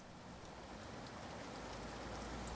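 Rain pounding on a roof: a soft, continuous patter and hiss of falling water, fairly faint and even throughout, with no voices.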